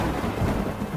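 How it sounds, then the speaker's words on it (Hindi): A low, rumbling roll of thunder, deep and steady for about a second. "बादल ऐसे गरज रहे थे जैसे भगवान क्रोधित हो गए हों"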